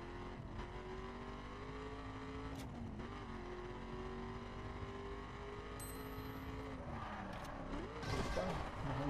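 Car engine in the PS4 racing game The Crew, a steady droning hum that rises and shifts in pitch as the car drives, with a louder rev and scuffing near the end.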